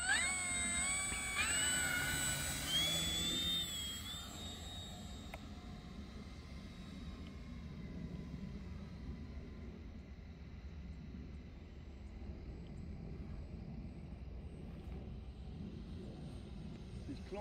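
Radio-controlled model Spitfire aircraft flying at a Stonham Barns display, its engine a steady droning hum that begins loud and close and then settles to a constant, more distant whine, with voices talking over it early on.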